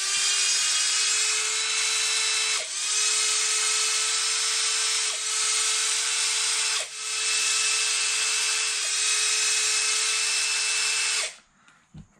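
A power driver spins out bolts from the transmission of an Arrma Outcast RC car, a loud, steady high-pitched whine in a few long runs with brief dips between, stopping abruptly at the end.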